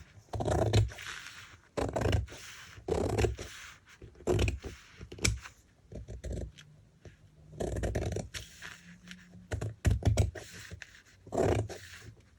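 Scissors cut through fabric at home in a string of short, crisp snips and scrapes. The quiet bursts come close up at an uneven pace with brief pauses between them.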